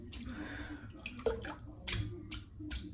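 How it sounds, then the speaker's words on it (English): A shaving brush is dipped and swished in water, giving wet splashing and dripping bursts with a few sharp slaps and gurgles at close range, no talk. "Let's get it dipped in the water"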